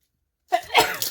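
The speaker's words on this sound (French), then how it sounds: "Oh, je vais éternuer, pardon." A single sharp sneeze bursts out close to the microphone after a moment of silence, brief and moderately loud, from someone crafting easy Christmas decorations.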